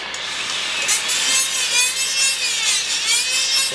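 An acrylic occlusal splint is smoothed with a rotary dental tool, making a continuous high whirring grind that rises and falls in waves as the bur is worked across the surface, with no talking.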